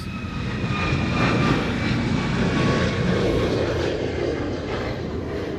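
A Southwest airliner departs from an airport shared with a military base in Hawaii, its engines giving a loud, steady roar that fills the scene.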